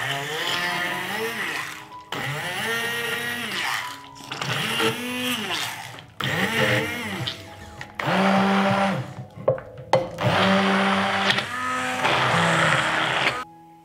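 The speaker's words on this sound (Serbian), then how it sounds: "I zatim ću sve usitniti štapnim mikserom." An immersion stick blender purees liver and its fat into pâté in a bowl, running in loud whirring bursts of about two seconds each whose pitch rises and dips as the blade works through the mixture, with brief pauses between bursts.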